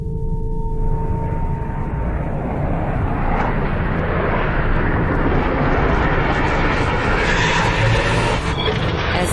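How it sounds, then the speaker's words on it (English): A single-seat FA-18 Hornet jet landing on an aircraft carrier and catching the arresting cable, a loud, sustained roar of jet engine and rushing wind that swells and stays heavy throughout. "As this single-seat FA-18 Hornet traps, the arresting cable stretches to the breaking point."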